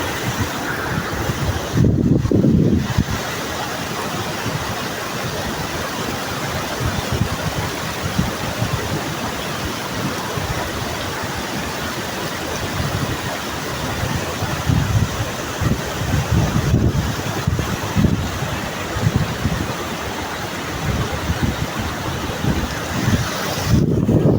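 Roaring waterfall in a landslide danger zone in Nepal: a steady, dense rush of falling water fills the whole stretch, with gusts of wind buffeting the microphone at moments.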